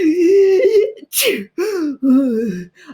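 A narrator imitates a sneeze in a voiced, theatrical way while reading a children's story about an elephant sitting on an egg in snow and sleet, with a wailing vocal tone and a sharp burst, close and loud.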